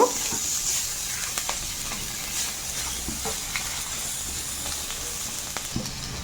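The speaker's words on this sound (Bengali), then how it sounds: "টমেটো কুচিটা দিয়ে আমি ভালো করে নেড়ে চেড়ে ভেজে নেব" Steady hiss of vegetables and chopped tomato stir-frying in a pan for semolina upma, with occasional soft scrapes and taps of a spatula, close and uninterrupted.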